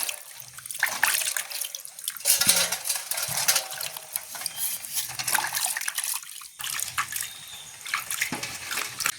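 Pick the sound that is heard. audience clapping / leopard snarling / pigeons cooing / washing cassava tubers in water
washing cassava tubers in water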